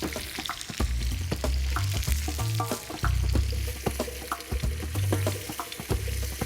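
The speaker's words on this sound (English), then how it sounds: "Cook the peppers until lightly brown and fragrant and aromatic, 2 to 3 minutes" Red and yellow bell pepper, flat leaf parsley and thinly sliced garlic fry in a hot pan, a steady close sizzle broken by repeated stirring scrapes and clatters throughout.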